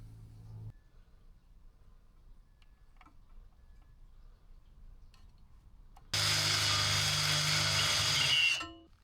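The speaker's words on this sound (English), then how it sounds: "What I'm doing is I'm just making a pilot hole to start off with before I put the bigger bit on and drill it out." A power drill bores a pilot hole into a boat trailer frame, whirring loudly and steadily for a couple of seconds before stopping, preceded by quiet ticking and workshop stillness.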